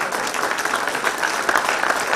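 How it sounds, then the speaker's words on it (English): Steady, dense applause from a conference audience at a national conference on farmer-herder relations in Nigeria, an even wash of many hands clapping throughout at moderate distance, with no break. "I think we should keep clapping."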